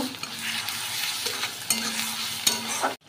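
Ginger-garlic paste, chili paste, turmeric and salt sizzle and are stirred in a hot pan for egg curry, a close continuous frying hiss with spoon scrapes and small knocks, cutting off abruptly at the end.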